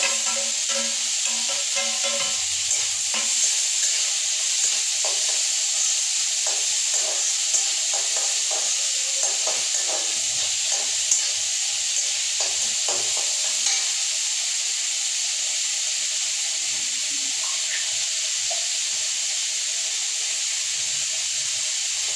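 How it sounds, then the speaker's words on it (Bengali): Green chilies frying in hot oil with chopped tomatoes poured in: a loud, constant hiss and sizzle that holds steady throughout, with faint stirring scrapes in the first half and no talking. "কাঁচা লঙ্কা কেটে এটা দিবে, এটা দিয়ে তারপর টমেটো ঢেলে দিবে।"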